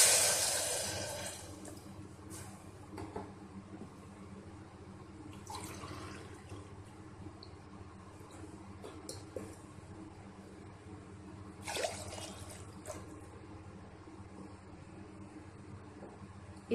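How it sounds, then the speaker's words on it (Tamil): Water is poured into a pan for rice sojji, with a brief splashing rush at the start, then faint drips and quiet kitchen handling against a low background. "இதே அளவில் நான் 2 பங்கு தண்ணி வைக்க ஊற்ற போகிறேன்"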